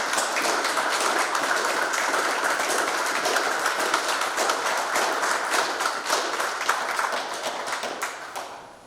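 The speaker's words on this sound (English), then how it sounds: "So please join me in a round of applause for all the district team members" An audience at a US Army Corps of Engineers change of command ceremony for the Walla Walla District applauds the district team members, sustained even clapping from a sizable crowd that fades out at the end.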